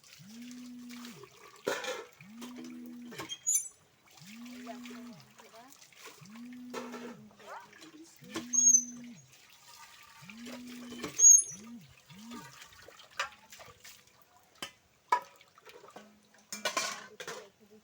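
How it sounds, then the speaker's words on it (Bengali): A hand pump is worked in a regular rhythm of creaks and clanks as water splashes and trickles during washing, with faint speech at times. "দেখো আমি এখন কল চেপে ধুবো"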